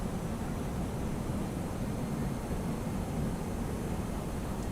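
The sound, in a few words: A319 engines spooling to idle, X-Plane 11 video game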